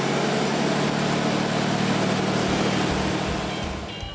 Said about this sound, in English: always fire her up just to make sure she sounds as good as she looks